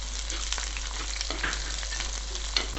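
Green chilies dropped into hot oil with ginger and garlic for a Kerala fish curry, giving a steady close sizzle with scattered pops and a faint low hum underneath.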